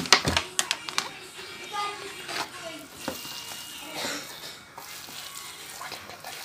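Sliced potatoes and diced onion are mixed together in a bowl, giving soft wet shuffling and stirring sounds with a few sharp clicks at the start, fairly close and quiet.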